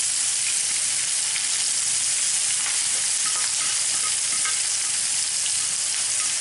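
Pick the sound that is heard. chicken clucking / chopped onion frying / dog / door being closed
chopped onion frying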